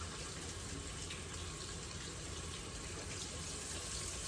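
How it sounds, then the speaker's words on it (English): Hands washed under a running tap, a steady close hiss of flowing water splashing into a sink, unbroken and even throughout. "I'll probably wash my hands 4 or 5 times during this whole session."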